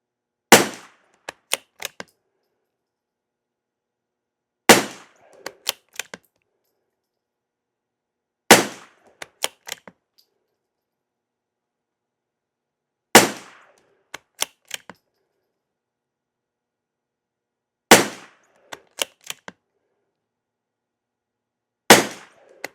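CCI SV rimfire rounds fired at a range in spaced volleys of sharp cracks, each volley a loud shot followed by a few quicker reports, separated by silence, no talk.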